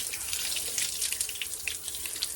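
After the pump is switched off, water keeps running steadily through a top-up check valve into a tank, giving a continuous close hiss and splash.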